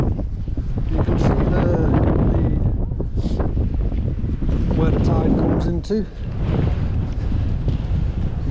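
Strong wind buffets the microphone on an open beach at a tidal inlet, a steady close roar running throughout with brief lulls, while a person talks over it.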